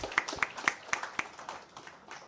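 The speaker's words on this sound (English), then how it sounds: "I think that deserves a huge round of applause." Audience at a hospital inauguration claps in a quiet, steady rhythm of distinct hand claps that gradually fade, heard faintly and somewhat distant, without talk.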